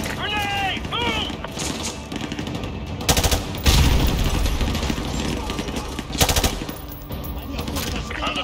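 Machine gun fire in Call of Duty Modern Warfare 2 Remastered, in the Gulag mission, crackles in loud sustained bursts, with heavy blasts and battle noise around it while soldiers shout orders over the fighting.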